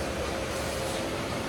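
A passenger train rolls along on the way to Bangalore, heard from inside as a steady, dense rumble and hiss of the moving carriage with no break.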